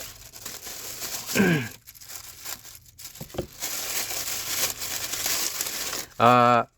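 Plastic packaging of a 48-LED motorcycle tail and brake light strip crinkles and tears open in close, bursty rustles, with a voice speaking briefly near the end.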